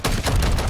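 Rapid gunfire from a Call of Duty match, a dense burst of loud overlapping shots filling the whole moment with no talking.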